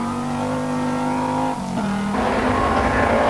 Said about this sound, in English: Powerful Group A Audi Quattro, storming through in great style